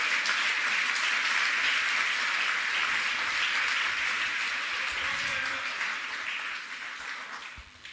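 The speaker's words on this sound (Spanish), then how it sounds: "Dele un aplauso al Señor en esta noche." A church congregation claps loudly and continuously at an evening service, a thick wash of applause that holds steady and then fades in the last couple of seconds.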